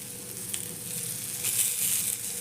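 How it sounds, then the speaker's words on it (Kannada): Okra sizzles steadily as it fries in oil in a pan, a continuous close crackle with brief bursts of spitting, no voices. "ಇದು ಫ್ರೈ ಆಗಲಿ ಇನ್ನೊಂದು ಚಮಚೆ ಎಣ್ಣೆ ಹಾಕೊಂಡ್ರಿ ಅದಕ್ಕೆ"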